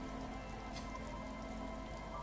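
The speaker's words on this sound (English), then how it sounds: "It's getting late, and it's raining." Steady rain patters in the video game Disco Elysium, a constant dense hiss of drops hitting surfaces, moderately loud and unbroken, with no voices.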